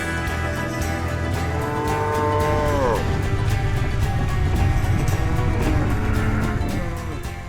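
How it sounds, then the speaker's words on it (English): Cows mooing on a farm, several long drawn-out lows rising and falling over a steady background hum, loud and fairly close with no talking. "One of my favorite cows is Eldora."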